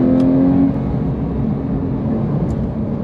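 A Porsche 911 GT3 of the 997.2 generation, about 430 brake horsepower, accelerates hard with a steady loud engine roar and whir, heard from inside and continuous throughout.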